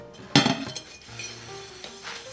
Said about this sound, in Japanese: 大皿とフライパンとお鍋を最後に洗うことが多いです